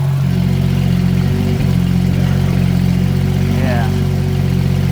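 A cold Porsche GT3 RS engine idles while warming up, a loud steady low rumble with a constant hum and faint revving texture, and a person speaks briefly over it.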